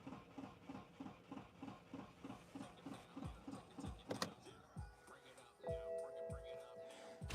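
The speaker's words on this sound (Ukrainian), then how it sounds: "Машина не заводиться." A 2012 BMW 520 automatic's engine cranks repeatedly in a steady rhythmic churn without catching, then stops; a few faint clicks and a brief whine follow, all fairly quiet.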